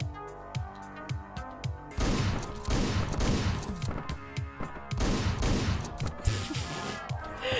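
Shotgun blasts in the top-down action game Hotline Miami: repeated booming shots in quick clusters over a steady game soundtrack, fairly quiet overall.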